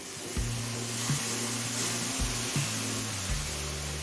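Mustard and poppy seed paste sizzles in a frying pan over medium flame, producing a steady, close hiss with a low hum and a few soft bumps of stirring underneath.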